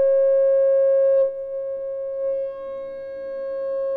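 An EOwave Quadrantid Swarm synthesizer holds a steady, pure string-like tone that shifts slightly and grows richer as a control is turned up, sustained and alone.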